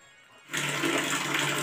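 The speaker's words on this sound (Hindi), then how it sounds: "अब इस प्रकार से प्याज की पत्तियों को पानी में धो लूँगी, पहले बाल्टी में डालूँगी साफ करके" Water gushes steadily into a bucket for washing onion leaves, starting abruptly after a quiet moment and running loud and continuous to the end.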